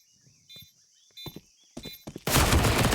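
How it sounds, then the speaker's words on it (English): An MP9 submachine gun in CS:GO fires a quick burst near the end, loud and sharp, following faint footsteps and short clicks. "MP9 quickly in with a headshot"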